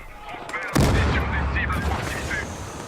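Shotgun blasts in the Battlefield Hardline multiplayer shooter, a sharp loud report followed by sustained dense gunfire and game noise, with faint talk underneath.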